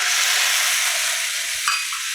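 Garlic and onions sizzling in olive oil in a pan, a dense, steady hiss of frying close up, with a brief clink near the end and no talking.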